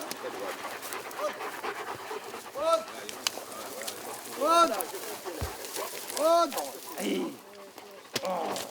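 Hunting hounds chasing a roe deer in the Forêt de la Coubre pant hard and close, with quick breaths and occasional yelps over soft ground.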